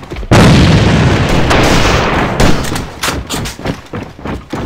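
A grenade blast in the AVA shooter game lands as a loud, close boom that rolls into a long rumbling decay, with further thuds and gunfire-like pops trailing after it.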